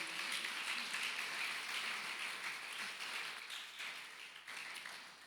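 A church congregation applauding, a soft, dense patter of many hands heard faintly and steadily throughout, thinning slightly toward the end.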